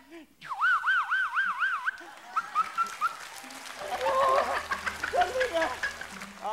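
A contestant on a game show imitates a wailing siren alarm with his voice, rising and falling in pitch, then breaks into talk and laughter with other voices.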